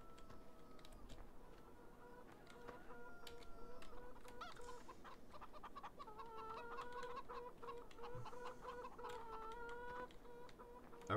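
Chickens in the farming game Farming Simulator 15 cluck and squawk repeatedly at moderate volume, several birds overlapping in uneven bursts over a faint background, with a few light clicks.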